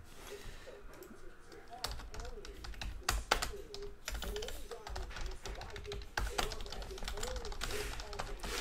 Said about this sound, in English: All right, so I'm typing in the chat